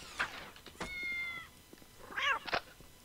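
A cat in the video game Postal 2 meows several times in short, separate cries, some rising and wavering, with quiet gaps between them.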